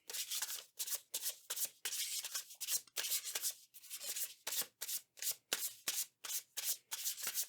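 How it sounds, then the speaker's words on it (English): Tarot cards are shuffled by hand in quick, rhythmic riffling strokes with short gaps between them, soft but close and continuous for several seconds, with no voices. "Shuffle, shuffle."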